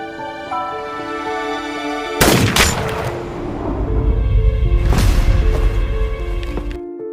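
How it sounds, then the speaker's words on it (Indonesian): A gunshot in a film, a sharp loud bang followed by a second booming burst, over a sustained musical score with no talk. "tiba-tiba Terano ditembak oleh Kinoshita yang ternyata masih hidup"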